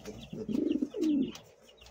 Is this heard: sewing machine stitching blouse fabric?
no